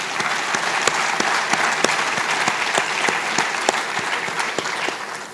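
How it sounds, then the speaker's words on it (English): Steady applause from an audience for panelists at a science day meeting, a dense continuous wash of claps at even loudness throughout, with no talk over it. "let's get a round of applause for all of our panelists"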